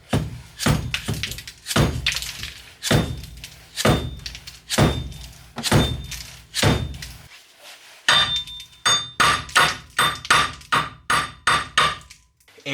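A hammer taps repeatedly on a stuck wheel hub bearing of a Nissan 350z: sharp metallic blows in a steady rhythm, close and loud, with a quicker burst of hits near the end.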